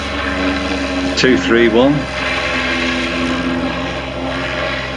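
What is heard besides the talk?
autogyro taxiing and taking off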